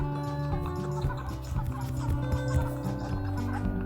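Cartoonish chicken clucks from the mobile farming game Egg, Inc. mix with layered tonal game music and chiming effects, several quick clucks overlapping at a steady, moderately loud level with no talk.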